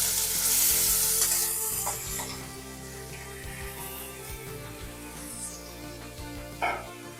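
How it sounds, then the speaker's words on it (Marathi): Washed rice being mixed with cardamom in a pot for sweet coconut rice, with a bright hissing sizzle and scraping stirs up close, and a dog barking briefly in the background. "आता हे मिक्स करून घेऊ आणि त्याच्यामध्ये आपण धुतलेला तांदूळ टाकू 1 वाटी."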